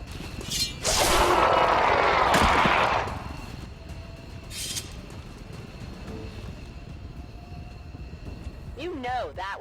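Video game gunfire in XCOM 2: a loud burst of shots and a whooshing blast, then a second short report, fading into a low ambient hum with a brief voice near the end.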